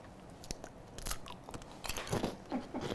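Teeth bite into a hardened brown butter caramel popcorn ball, giving close, loud crunches and crackles in uneven bursts, followed by crisp chewing with no talking.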